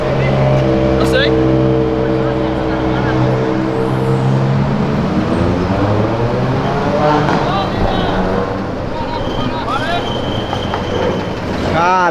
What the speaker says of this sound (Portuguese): Caraca, olha esse carro